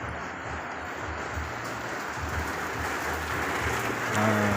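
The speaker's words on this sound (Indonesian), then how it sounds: "hujan pagi di kota Jayapura, Papua guys, teman-teman" Morning rain falls steadily in front of a house in Jayapura, Papua, a soft continuous hiss of drops on surfaces, fairly faint and even, with no voices.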